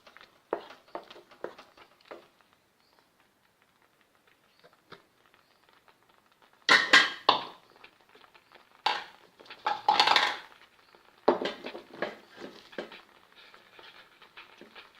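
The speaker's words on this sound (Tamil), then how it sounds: "பீட்ரூட்டு போட்டுடலாம்." Beetroot tumbles into a pan for carrot and beetroot kozhukkatta and gets stirred, with a few loud scraping, clattering bursts of utensil against metal after quiet, soft rustling.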